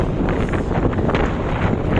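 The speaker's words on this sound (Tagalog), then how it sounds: "Nakas yung hangin." Strong wind buffeting the microphone with a constant loud roar, no voices, during a bicycle climb up a steep 35% gradient road in Tarlac.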